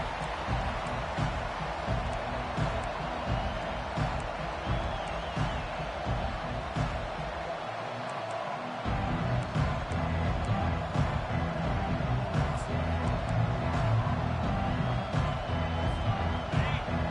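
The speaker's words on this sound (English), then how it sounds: "This crowd trying to show them what it's going to be like all day in this house." Stadium crowd noise from a college football video game, a Michigan Wolverines game at kickoff, a steady roaring din that swells louder midway and holds under the play-by-play commentary.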